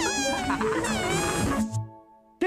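A cat meows in a long, wavering, tonal cry that slides downward, loud and close, then trails off into a lower purr-like tone before a brief sharp noise at the end.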